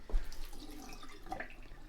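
Water from a sink drain pipe is poured into a bathroom double-vanity sink, splashing and gurgling with a few drips, close by.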